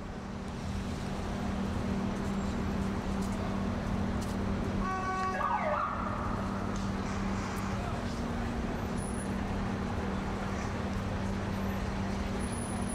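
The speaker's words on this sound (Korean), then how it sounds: "뉴욕 시내 중심가에 차가 지나가는 그런 스트릿의 소리." Downtown New York City street ambience: a steady low traffic rumble and hum from passing cars, with a brief siren-like tonal sweep midway and faint distant voices in the background.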